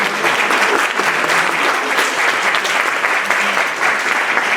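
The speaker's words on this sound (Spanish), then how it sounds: "el aplauso, por favor" Loud, dense applause from an audience at a scientific lecture, steady and close throughout with no voices breaking through.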